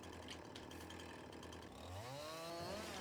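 A chainsaw in Farming Simulator 22 runs and cuts through logs, its raspy buzzing rising and bending in pitch as the engine revs during the cut, moderately close and continuous, with no talking.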